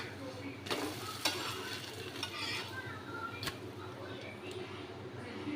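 Jowar (white sorghum) dosa fries on a pan with a steady soft sizzle, punctuated by a few sharp clicks of a utensil against the pan, close and moderately loud.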